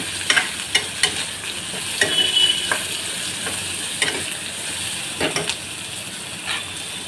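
Masala for chickpea curry gravy sizzles and hisses in a hot pan over a low flame while a spoon scrapes and stirs it repeatedly. No one speaks.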